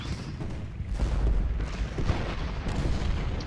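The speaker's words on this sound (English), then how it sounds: "Make sure we maximize our fire. Even more artillery coming up." Artillery fire in a Civil War strategy video game, heavy low booms and rumbling volleys layered continuously, several loud thumps near the one- and two-second marks over a dense battle din.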